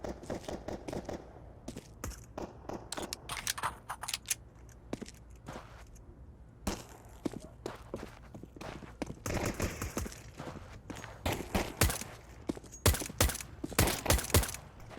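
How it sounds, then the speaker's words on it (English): Counter-Strike 2 gunfire comes as rapid, dense bursts of shots with overlapping crisp reports and clicks. The shooting runs almost without a break, loud and close, over a low steady game background. "You're shooting a lot of bullets like in nothing."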